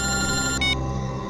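A telephone rings with a bright, trilling electronic tone that sounds for a moment, briefly changes pitch and then cuts off, clear and fairly close, with no talking.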